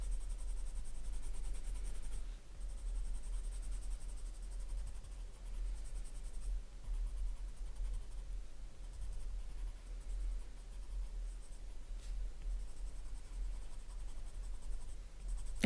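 Stabilo Carbothello chalk pastel pencils scratch across paper in a soft, continuous scribbling with brief pauses, quiet and close over a low background hum.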